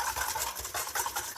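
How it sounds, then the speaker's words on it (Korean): A whisk scrapes and swishes rapidly around a bowl, dissolving sugar and salt for bread dough, in quick, rhythmic strokes, close up and fairly quiet, with no voices. "휘스크로 저어서 설탕과 소금을 좀 녹여주겠습니다."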